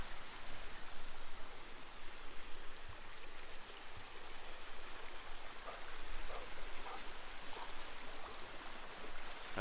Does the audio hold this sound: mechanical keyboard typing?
no